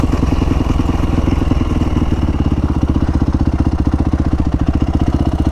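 Honda CRF450R dirt bike engine running loud and close on a practice lot, a steady fast pulsing thump with rising revs and clattering mechanical texture throughout.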